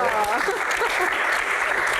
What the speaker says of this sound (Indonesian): tepuk tangan untuk Mbak Tejo